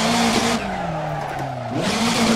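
Skoda Fabia R5 rally car on a special stage at the Rallye du Var, engine note loud and close from onboard, revs dipping then rising again, with tire noise and no talk.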